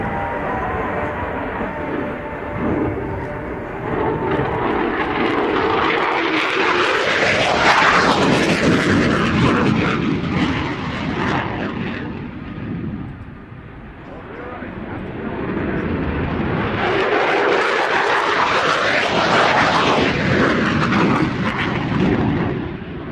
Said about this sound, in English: let you enjoy the sight and sounds of this aircraft